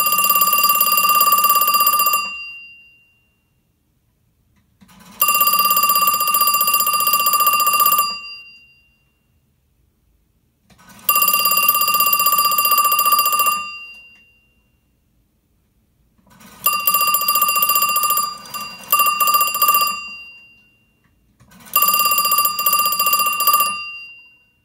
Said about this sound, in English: Let's do a ringing demonstration.